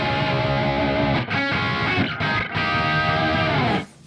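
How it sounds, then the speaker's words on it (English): Electric guitar played through a delay effect with no reverb, sustained distorted notes and chords ringing out with echoing repeats, loud and close with brief gaps between phrases. "So without the reverb, it sounds like this."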